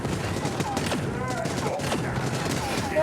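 Gunfire in the Void Bastards video game comes as a dense, rattling stream of shots mixed with warbling sci-fi effects and other game noise, loud and continuous.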